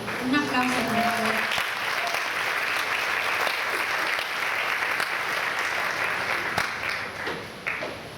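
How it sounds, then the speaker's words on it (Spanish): Audience at a testimony gathering breaks into applause, many hands clapping in a full, steady wash that fades slightly near the end, while a voice speaks briefly over the start. "Un aplauso, por favor."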